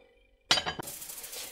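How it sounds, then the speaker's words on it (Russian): A single metallic clank as a lid settles onto a frying pan of bread on minimum heat, followed by a steady sizzling hiss underneath. "и накрываю крышкой."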